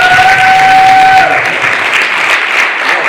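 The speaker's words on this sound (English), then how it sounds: "Can we do a round of applause?" Brief, loud round of applause from a crowd at a school community safety forum, dense clapping that fades slightly by the end, with a short tone at the start.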